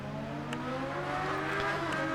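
A Yamaha racing motorcycle with a level 3 engine upgrade, heard from a helmet camera in the TT Isle of Man 2 game, holds a loud, steady, buzzing engine note with faint clicks.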